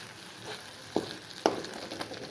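Brinjals (vankayi) frying in a masala-coated pan give a steady close sizzle with a couple of sharper pops, and no voices.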